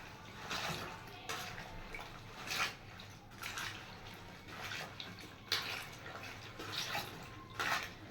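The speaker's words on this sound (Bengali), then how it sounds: "আমি কচু শাক ধুচ্ছি" Taro (kochu shak) leaves being rinsed in water in a kitchen, with repeated soft splashing bursts at an uneven rhythm, close and moderately quiet, and no talking.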